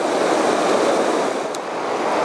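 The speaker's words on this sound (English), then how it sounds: "This is actually Danube River, what I'm standing in." Water of the Danube River rushing steadily around someone standing in it, a continuous close broadband wash with wind-like hiss.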